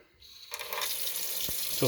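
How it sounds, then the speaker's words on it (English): A kitchen tap runs cold water into a sink, starting after a brief quiet moment and then hissing steadily and fairly loudly without a break. "I'll let the tap run for just to get some cold water"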